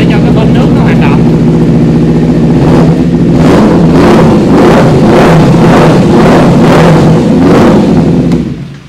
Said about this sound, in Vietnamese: Rồi sau đó thì đầy rồi thì mình nổ máy và mình tắt máy vài lần